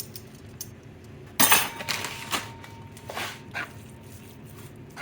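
Shrimp and crab burger mixture with spinach, red peppers and breadcrumbs being folded in a bowl, soft scraping and a few sharp clinks of a utensil against the bowl, with no talk.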